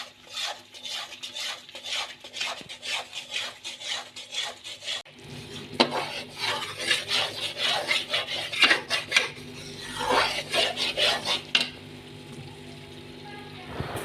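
Metal spoon scraping and stirring maida halwa in ghee in a pan, a steady rhythmic rasping that grows busier and louder, with faint sizzling underneath.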